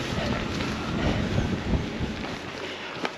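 Chilly wind blowing steadily across a walker out on a long-distance trail, a loud continuous buffeting rush against the microphone with gusty swells and low rumble, no talking.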